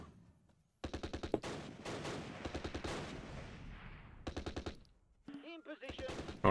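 Vickers machine gun bursts in the World War II video game Close Combat at Arnhem, rapid repeated rattling volleys in several strings, fairly close and sharp, with a brief fluttering tone between bursts.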